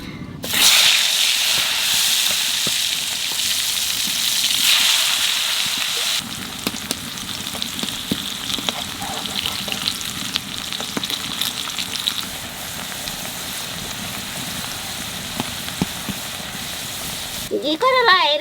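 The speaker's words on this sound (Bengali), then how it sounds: "ঘি করলায় একটু লবণ আর হলুদ মাখাইয়ে তারপরে তেলের পর দিয়ে ভাজিয়ে নেব" Slices of bitter gourd rubbed with salt and turmeric fry in hot oil in a home kitchen. The oil sizzles and hisses steadily, with scattered crackles and stirring, and a brief shift in tone partway through.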